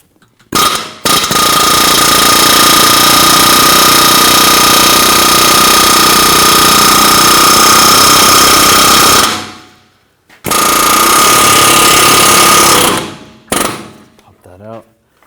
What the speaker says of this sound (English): Or you can use an air hammer.